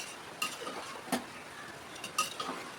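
Spoon scraping and tapping against a pot while dalia porridge is stirred, a few sharp clinks spaced out over a quiet background, close and fairly faint.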